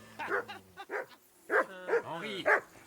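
A dog barking in the medieval video game Kingdom Come Deliverance II, a few short, loud, close barks and yips in an uneven run, with no speech.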